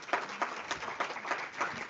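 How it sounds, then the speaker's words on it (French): Audience applause for a speaker at a conference event, a steady patter of hand claps sounding thin and somewhat distant, with rhythmic bursts that continue without talk. "Je vous invite à l'applaudir."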